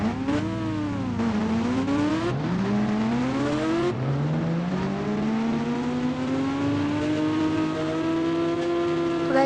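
A red Hayabusa motorbike in the Indian Bike Driving 3D game roars continuously at high speed, its engine pitch sweeping up and down through repeated gear shifts, loud and steady with no talking.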